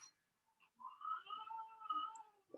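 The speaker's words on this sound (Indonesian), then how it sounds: "Maaf ada suara kucing." A cat meows several times in a drawn-out, wavering call lasting about two seconds, moderately loud and close, with a short chirp near the start and no talk over it.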